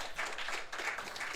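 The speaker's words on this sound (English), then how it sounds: "polite applause" A short burst of polite applause from a small crowd, with light, scattered clapping at a soft, even level for just over a second.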